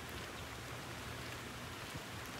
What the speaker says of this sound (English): I didn't quite make it home before the rain started. It's coming down pretty steady now here in Naples Park.